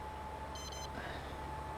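A short burst of rapid, high warning beeps comes from farm machinery in Farming Simulator 22. The pulses are closely spaced and play briefly over a constant low engine drone.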